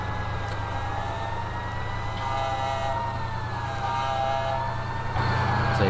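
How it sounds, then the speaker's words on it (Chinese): A toy fire truck's electronic siren wails in a continuous wavering tone over a low mechanical hum, fairly close and growing slightly louder toward the end. "这个警报声啊"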